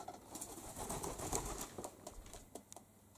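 Feral pigeons that have grown tame living somewhere warm, with cooing and fluttering wingbeats close by in the early morning, a steady soft bird murmur running throughout.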